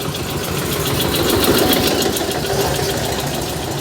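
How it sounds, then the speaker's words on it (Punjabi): A 1997 Mahindra 265 tractor idles at a tractor market, its diesel engine holding a steady, close, even rumble with a faint knocking texture throughout, no voices over it. "ਸਭ ਤੋਂ ਪਹਿਲਾਂ ਆਪਾਂ ਤੁਹਾਨੂੰ ਦਿਖਾ ਰਹੇ ਹਾਂ ਟਰੈਕਟਰ ਜੀ ਮਹਿੰਦਰਾ 265"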